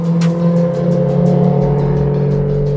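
BMW E93 M3 with the S65 V8 idling and revving, a steady harmonic engine drone with throttle blips rising and falling, close and loud throughout.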